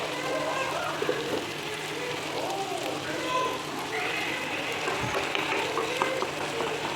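Curry leaves drop into a pan of egg curry and sizzle steadily, a fine crackling hiss with stirring scrapes, while a voice talks over the cooking.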